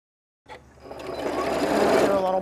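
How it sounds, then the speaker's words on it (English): A sewing machine stitches a fabric tie across the top of a garden apron, running steadily and close after a moment of silence, its whir continuous and growing slightly louder to the end. "I'm going to sew the tie across the top of the apron."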